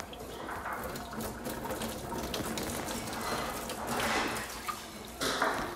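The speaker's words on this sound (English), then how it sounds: "Fill my milk bucket up that I use for my cow." Hot water running from a tap into a metal milk bucket used for a cow, a steady splashing gush that swells and shifts as the bucket fills, close and continuous.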